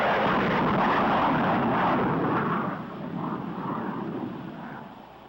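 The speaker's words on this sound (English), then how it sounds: "Now we are approaching with the afterburner in operation." A jet aircraft climbs with its afterburner lit, producing a broad, continuous roar that is loud and steady before easing slightly, with no talk over it.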